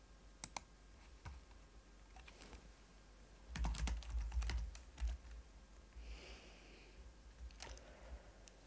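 Keystrokes on a computer keyboard, clicking in short irregular bursts and a denser flurry midway, fairly close and quiet with no voices.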